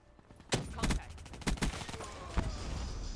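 Scattered gunshots in Call of Duty Black Ops 3: several sharp cracks and short bursts, fairly close, with quieter rattling fire between them and no talk over it.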